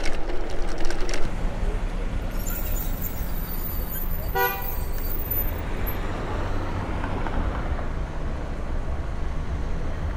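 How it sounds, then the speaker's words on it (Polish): A car horn honks several times at a pedestrian crossing on a green light, heard from a bicycle over steady road traffic and wind noise, with a short burst of horn tones standing out midway. "a ten trąbi na nią"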